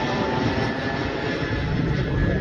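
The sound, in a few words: airplane flying overhead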